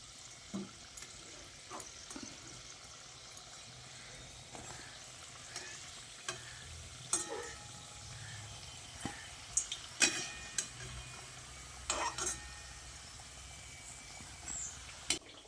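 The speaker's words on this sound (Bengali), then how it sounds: "একটু সময় ধরে ভালো করে কচুরিগুলোকে ভেজে নিতে হবে" Moong dal kachori deep-frying in oil, a steady low sizzle and bubbling throughout with occasional sharp clinks and scrapes of a utensil, no voices.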